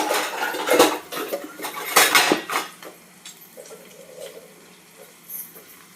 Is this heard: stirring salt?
yes